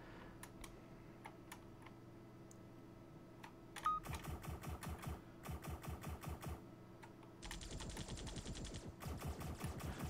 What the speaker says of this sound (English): I do like that one guy's machine gun, though.